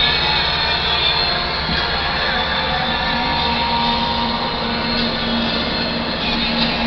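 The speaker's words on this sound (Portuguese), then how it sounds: "Olha o trem." A freight train rumbles past steadily on the rails, loud and close, with a continuous roar and faint metallic squeal from the wheels.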